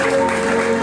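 Steady applause from a crowd fills the whole moment, dense and loud, with a sustained tone running underneath.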